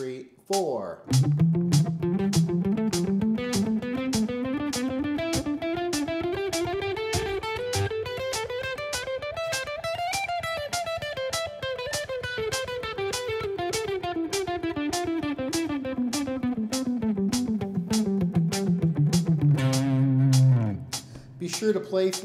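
Guitar running a major scale sequence in three-note-per-string patterns, shifting up to the next position and descending, with steady evenly picked notes climbing then falling, clear and close with no talking.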